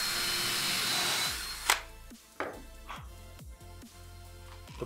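A power drill whines briefly while pre-drilling thin plywood, then winds down, followed by several sharp knocks and clunks on wood close by.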